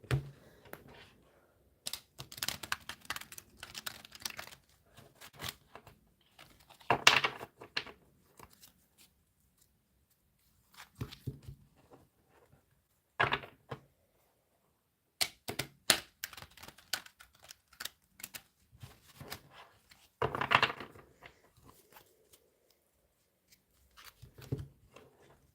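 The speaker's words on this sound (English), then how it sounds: "Let's have a shuffle." Tarot cards being shuffled for a zodiac love reading: soft, close riffling and tapping of the deck in scattered bursts, separated by quiet gaps, with no talk.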